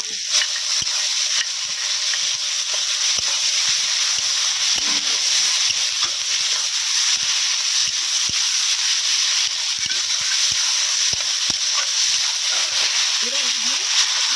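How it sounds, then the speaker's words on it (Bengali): Ginger garlic paste frying in a pan with softened onion and tomato, a continuous loud sizzle and hiss with scattered stirring scrapes and faint ticks throughout. "পেঁয়াজ এবং টমেটো কুচি একদম গলে এসেছে, এর মধ্যে আদা রসুন বাটা দিয়ে দিচ্ছি।"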